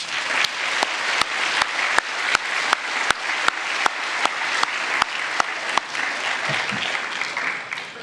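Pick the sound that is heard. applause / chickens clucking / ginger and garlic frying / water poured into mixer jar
applause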